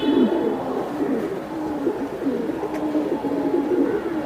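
Silver Giribaz pigeons coo steadily in low, throaty, rolling phrases close by, with continuous overlapping calls and no talk.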